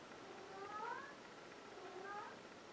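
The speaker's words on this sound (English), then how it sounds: "that's the therapist cat, the therapy cat, you know" A cat meows twice, faintly and at some distance, against a steady hiss, each meow a short rising-and-falling call with a pause between them.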